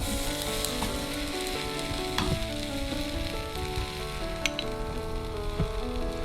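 Rava breakfast frying in oil in a pan over medium flame, a steady close sizzle running throughout with occasional stirring clicks and pops, no voices.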